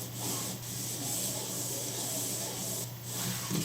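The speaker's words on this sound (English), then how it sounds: "It's not the mouse, I think it's more the mouse surface that make that rough sounding." Skates of an EKSA EM500 gaming mouse slide across a rough mouse pad and make a steady, close scratchy rubbing. The sound swells and dips slightly with each movement and has brief pauses near the start and end.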